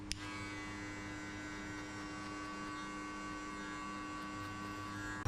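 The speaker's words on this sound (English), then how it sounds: "open the clipper halfway and hit only between the number 0 and the half" An electric hair clipper hums with a continuous close buzz, opened halfway during a buzz cut, with a single click at the start and no talking.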